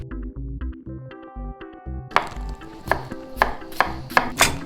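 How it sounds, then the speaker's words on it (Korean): Vegetables roughly chopped with a knife for pasta, a series of sharp close knife strikes on a board coming in a loose rhythm after a stretch of softer tonal background sound. "대충 툭툭 썰어 놓고요."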